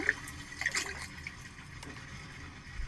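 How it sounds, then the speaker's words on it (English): Hands moving and splashing in water outdoors near a yard, close and gentle, with small sloshes and soft drips over a quiet background and no talk. "Listen to my hands in the water."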